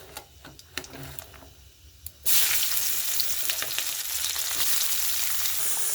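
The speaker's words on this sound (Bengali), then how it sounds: "মশলাটা এই যে পেঁয়াজটা ভেজে নেবো, একটু পেঁয়াজটা দেবো।" Onions frying in oil in a pan, a soft crackle that swells abruptly into a loud, steady sizzle about two seconds in, with faint scraping and clicks over it.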